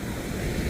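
Ocean surf washing ashore at Francis Beach in the evening, a steady broadband wash with wind noise on the microphone, continuous and fairly distant with no talking.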